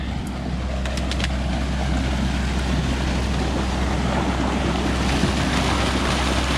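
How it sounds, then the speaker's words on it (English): A flood water pump discharges through a large pipe in summer, a loud, steady roaring gush of water over a low engine drone, continuous and close with no break. "She moves a lot of water."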